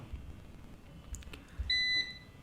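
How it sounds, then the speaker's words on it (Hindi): An uninterruptible power supply (UPS) beeps after a power cut: one short, steady electronic tone sounds near the end, faint and close, over quiet room noise. "again very sorry for the beep sound, light चले गई तो UPS साउंड करता है ऐसा"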